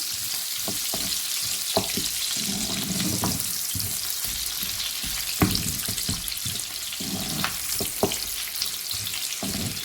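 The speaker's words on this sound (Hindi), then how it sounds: "अब इसमें हम अपने डालेंगे ये अनियन, प्याज डाल दिए हमने, इसको हल्का सा हमने ब्राउन करना है" Chopped onions sizzle steadily in hot oil as they are lightly browned for Korean sweet and sour chicken. Scattered utensil scrapes and taps sound close by, with no voices.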